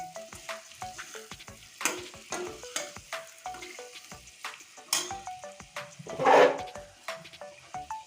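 Fried potatoes and spices for a soybean and potato curry sizzle in a pan while a utensil stirs and scrapes in repeated strokes, close up, with one louder burst of sizzling near the end.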